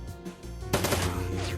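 Combat gunfire in the video game Shadowrun Dragonfall: a sudden burst of rapid shots breaks in partway through and continues as a dense, sustained rattle over low rumbling game background noise.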